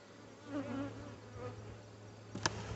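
A soft, steady buzz of many honeybees droning together in an open hive, fairly quiet and continuous, with a brief click near the end.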